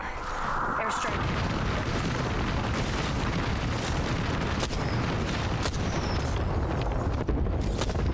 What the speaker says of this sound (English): Airstrike.